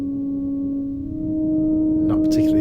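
A raw synth patch with its effects stripped off, in an electronic music production, holds a steady, bland sustained tone alone, with a brighter shimmer entering near the end.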